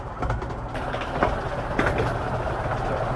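Romney, Hythe and Dymchurch Railway miniature train picking up speed, a steady rumbling roar with rhythmic rail clatter and occasional louder knocks, heard from aboard the moving carriage with no talking.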